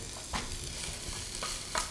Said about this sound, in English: So you can hear it sizzle.